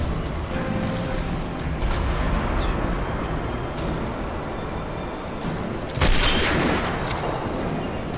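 Gunfire from a sniper shooter game on the Regilino Viaduct map in Authentic Plus mode, with a dense wash of shots and explosions throughout and a sharper, louder burst near the end.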